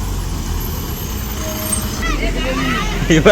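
A decorated bus or large road vehicle rumbles steadily nearby with low engine and road noise, then moves off, while people talk over it.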